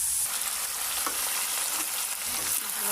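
Curry with chili is stirred and fried in a pan, giving a dense, even sizzle with faint scraping, close and steady, and no voices.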